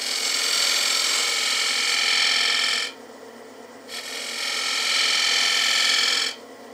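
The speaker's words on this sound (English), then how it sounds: "I can do that with the swept background on the 3/8 bore gouge. So I'll just create a bead into there." A 3/8 bowl gouge with a swept-back grind cuts a bead in wood turning on a lathe, making a loud, steady hissing scrape in two long passes separated by a short quieter pause.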